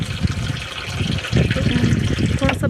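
Water runs from a tap into a container in a Himachal village on a very windy day, a continuous splashing rush that stays steady and close throughout.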